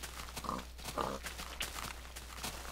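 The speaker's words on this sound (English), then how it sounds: "There's a lot of pigs." Minecraft pig grunts and oinks recur in short bursts at moderate volume over a steady background hum, several animals nearby.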